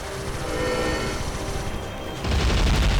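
Continuous roaring blasts and crackling explosions from the platformer game I Wanna Be The Justice Guy, loud and dense, swelling heavier near the end with no voices.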